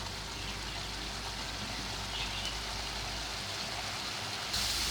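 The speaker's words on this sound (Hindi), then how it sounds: "अब हम इसको तेज़ आंच में भून लेंगे।" Masala for a red bean curry sizzles steadily in oil over high heat, a soft, continuous frying hiss with no talking.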